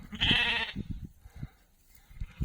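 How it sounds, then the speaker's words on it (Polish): A sheep bleats loudly close by in a small farm flock, one strong cry followed by soft shuffling and faint animal sounds. "już są trzy następne owce w stadzie"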